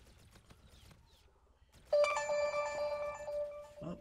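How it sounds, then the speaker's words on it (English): A phone ringtone suddenly starts, a bright repeating electronic melody that rings out loud and clear for a couple of seconds over a quiet background. "My phone is going off."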